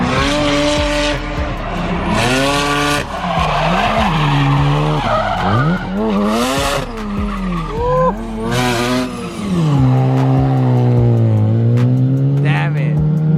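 A Mazda RX-7 drifts past on a track with loud, sweeping tire squeals and a rising and falling engine roar, heard very close from trackside as several long skids overlap.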